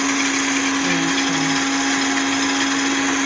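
A blender whirs steadily while mixing an avocado salad dressing, a loud constant motor whine with a high steady tone that runs without pause throughout.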